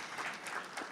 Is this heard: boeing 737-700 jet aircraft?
no